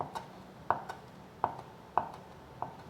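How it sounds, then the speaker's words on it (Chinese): Mint leaves being chopped with a knife on a cutting board, four or five sharp, evenly spaced knocks close by with quiet pauses between, no talking. "现在来把它切碎。"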